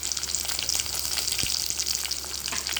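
Thickly chopped onions fry in hot oil with tempering seeds for a hotel-style poori curry, giving a steady close sizzle and occasional soft stirring clicks.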